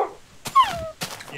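A Minecraft dog gives short whimpering whines in the video game, a couple of thin rising-and-falling cries close by, with no talk over them.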